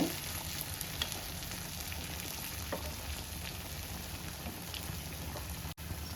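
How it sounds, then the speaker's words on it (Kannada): Jackfruit vada frying in hot oil, a dense, steady sizzle and crackle that fills the whole stretch at moderate level with no talk over it. "ಒಂದೊಂದೇ ವಡೆ ಫ್ರೈ ಆಗ್ತಾ ಇದೆ."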